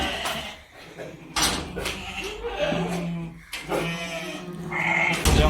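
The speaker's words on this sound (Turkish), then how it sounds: "Cemal amcanın kuzuları da şimdi Cemal amca da onlara yem verecek." Several lambs bleat in overlapping, wavering cries nearby, with shuffling and a person's voice mixed among them.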